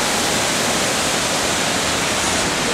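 The waterfall on Hamilton Creek pours into a pool at Hamilton Pool, Texas, a loud, unbroken roar of falling water heard close by with no voices.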